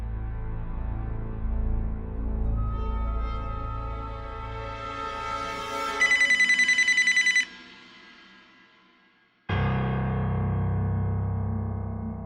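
A telephone rings in a Hindi crime-drama scene: one sustained burst of bright, rapid bell ringing over a music bed, then it cuts off before a sudden loud return of the music.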